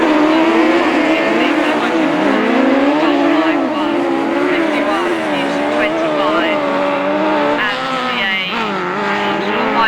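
Autograss race cars roar around a dirt track near the finish of a race, engines loud and continuous with rising and falling revs and occasional tyre squeal.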